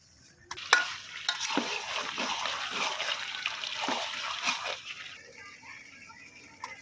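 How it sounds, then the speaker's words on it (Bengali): Chicken and potato curry in masala being stirred and sautéed in a pan, with a steady sizzle and scraping spoon strokes that fade as the stirring eases near the end. "আমি তরকারিটা ভালোভাবে লাইরে ছেড়ে যে কষাই নিলাম"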